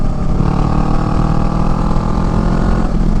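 A Honda Rebel motorcycle with a Shorty GP aftermarket exhaust revs and holds a deep, throaty drone, steady and close throughout with no pauses.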